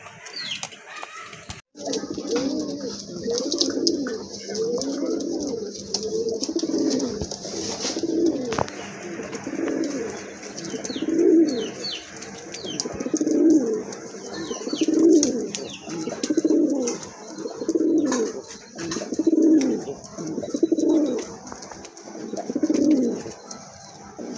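Pigeons coo in a slow, regular series of soft throaty calls, close by, repeating for a long stretch with faint background noise.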